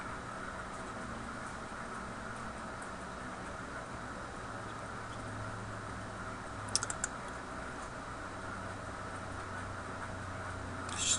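Keys on a computer keyboard are tapped in a short, faint burst while a username and password are entered, over a steady hum in an office.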